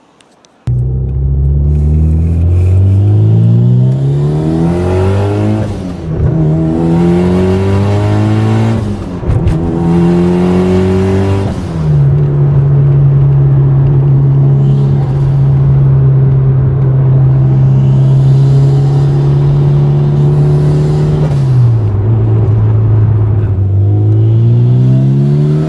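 Modified Mitsubishi Evo 6 engine revving through several rising gear pulls, then holding a steady drone before dropping, loud and close throughout with no voices.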